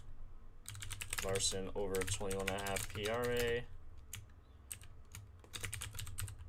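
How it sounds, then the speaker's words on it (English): Typing on a computer keyboard, rapid light key clicks in bursts around and under a man's speech, faint and close. "So I'm typing those in."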